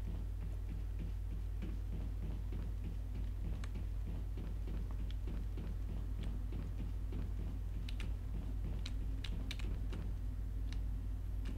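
Computer keyboard arrow keys tapped during Mass Effect play, a busy run of light clicks and ticks under a steady low hum, fairly faint and close.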